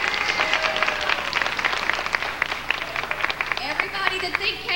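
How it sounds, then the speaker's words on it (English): Crowd hand clapping at a Hunting High School 30th class reunion: dense, steady applause under cheering and talking voices, with whoops breaking through near the end. "Let's do a clap, a hand clap."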